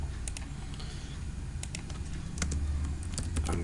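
Keys clack on a computer keyboard in quick irregular bursts, close and crisp, as code is typed, with no voices.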